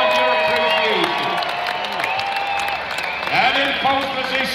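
Rodeo grandstand crowd at the Sheridan, Wyoming championship Indian Relay races, clapping and cheering in a steady, continuous wash of applause with scattered whoops, swelling slightly near the end.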